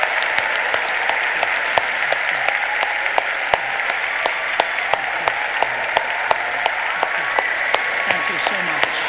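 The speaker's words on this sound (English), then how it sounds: "can we please, one more time, give Dr. Ravi Zacharias and Vince Vitale some applause" Sustained audience applause at the close of a lecture at Temple University, a loud, continuous field of clapping with distinct sharp individual claps standing out, and a voice speaking over it.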